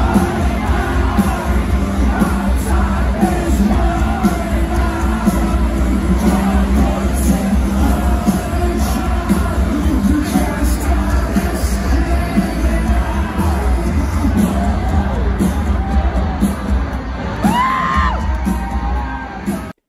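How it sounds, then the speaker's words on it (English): A large crowd sings along at a concert, a loud, dense roar of many voices with whoops and yells rising through it, continuous for the whole stretch. "Kau boleh dengar the entire crowd singing"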